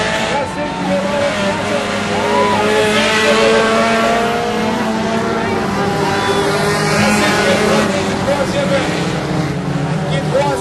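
Four-cylinder stock cars race on an oval track at St-Marcel, Quebec, their engines droning and revving in a continuous loud roar, with a French-speaking announcer commentating over the noise.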